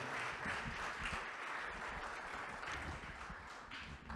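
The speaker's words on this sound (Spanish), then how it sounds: "le damos un aplauso a nuestras hermanas" Church congregation applauding visiting sisters during a service, continuous many-handed clapping that holds steady before easing slightly toward the end.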